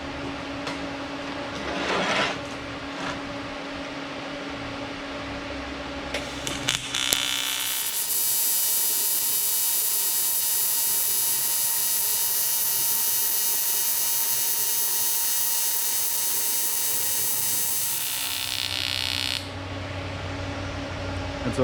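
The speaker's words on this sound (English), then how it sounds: "I use 4043 rod. It's just, you know, typical standard welding rod." TIG welding with 4043 rod: a steady, bright, buzzing arc hiss holding for about twelve seconds, close and loud, preceded by a low hum and faint handling clicks as the torch is set up.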